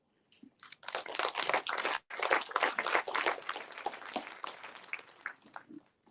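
Audience applause breaks out at the close of a talk at a DNA profiling test launch, a dense patter of many hands clapping that starts abruptly, briefly dips, then carries on steadily at moderate loudness before thinning out.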